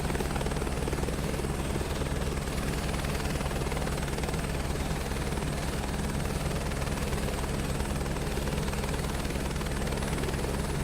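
A helicopter's rotor and engine drone steadily and loudly as it climbs in a flight simulator game, with constant rapid blade chop and no pauses.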